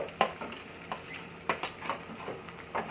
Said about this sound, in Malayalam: ഉള്ളി ഇടുമ്പോൾ ലേശം ഉപ്പും ചേർത്ത് ഇവനെ നല്ല രീതിയിൽ ഒന്ന് വഴറ്റിയെടുക്കുന്നു.